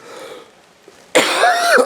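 A sudden loud, harsh burst partway through, like a throaty cough, following a quieter stretch of low background noise.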